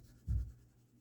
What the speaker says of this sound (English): I'm going to be coloring these in with twistables